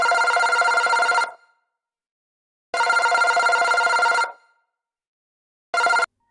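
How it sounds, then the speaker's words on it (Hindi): A Rapido ride-hailing app notification chimes on a phone as a bright ringtone, sounding in three separate bursts: two long ones about a second and a half each, then a short final burst, with silence between. "फोन में रैपिडो का नोटिफिकेशन की घंटी बजी।"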